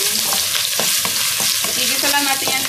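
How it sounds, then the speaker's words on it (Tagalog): Ginger and spices sautéing for homemade sambar, a loud, dense sizzle punctuated by quick rhythmic scrapes of a spatula against the pan, close up with no voices. "Igisa lang natin yan sa spices"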